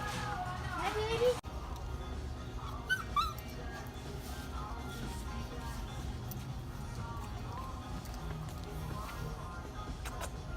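A puppy whimpers and yips in brief high whines near the start, then quieter background noise follows while people talk nearby.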